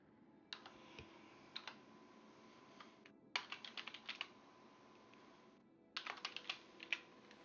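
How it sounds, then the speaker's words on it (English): Rapid bursts of typing on a computer keyboard, dense clusters of clicks in three runs separated by short pauses, fairly close and alone. "You're typing like a madman."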